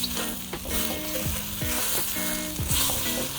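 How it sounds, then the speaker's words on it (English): An egg frying briefly in a pan for leftover fried rice, a dense close sizzle with a few sharp clanks and scrapes of a utensil against the pan, no voices. "I'm gonna cook this egg just momentarily."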